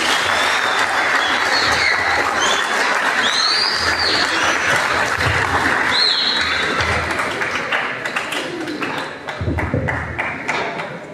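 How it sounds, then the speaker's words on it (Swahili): A church congregation claps together in a sustained burst of applause, loud and dense, tapering slightly toward the end. "Mjipigie makofi mazuri"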